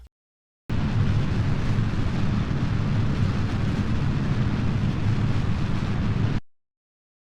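A solid rocket booster roars off the launch pad in Kerbal Space Program, a dense, steady, thunderous rush lasting several seconds that starts and stops abruptly.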